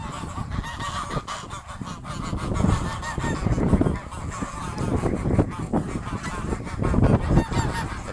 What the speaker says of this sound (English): And this is the back lawn with our ducks.